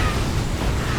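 Siege tanks in a StarCraft II match blow apart in a dense burst of crackling, booming explosions, loud and continuous over the whole moment.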